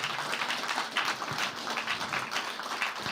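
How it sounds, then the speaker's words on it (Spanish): Church congregation gives sustained applause to God, a thick continuous roar of many hands clapping at an even level throughout. "De veras es para Dios ese aplauso"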